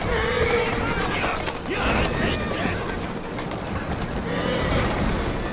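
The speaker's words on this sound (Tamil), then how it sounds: "குதிரை வண்டி தான் எடுத்து வாங்கடா" In the video game Assassin's Creed Syndicate, a horse-drawn carriage rolls along with steady clip-clop hooves and rattling wheels, continuous and fairly loud beneath a busy game soundscape, with people talking over it.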